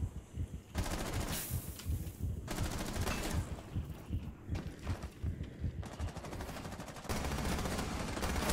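Gunfire in the tactical shooter Rainbow Six Siege, several loud sustained automatic bursts with short pauses between them, near and dense, with no talk.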